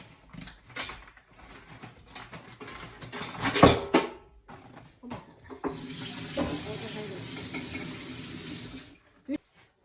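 Live black crabs are washed in a kitchen sink before being stir-fried with curry powder. Clattering handling knocks come first, followed by a steady stream of running tap water that stops abruptly near the end.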